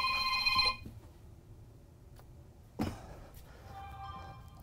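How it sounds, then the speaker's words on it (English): A mobile phone ringtone chimes loudly at the start and cuts off, then a sharp knock or thud and a quieter electronic tone follow, inside an RV bedroom. "Pardon me for that phone."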